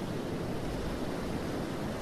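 A vehicle sits submerged in water in the BeamNG.drive driving game, producing a steady, rushing watery wash of noise with a low rumble, constant and fairly quiet, with no talking.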